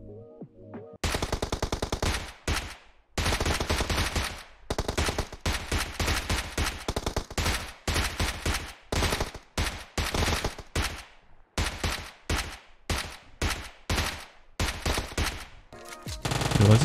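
Rapid bursts of automatic gunfire in PUBG Mobile, loud and close, coming in repeated volleys with brief gaps between them.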